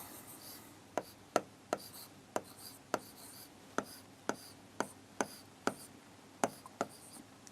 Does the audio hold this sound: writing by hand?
yes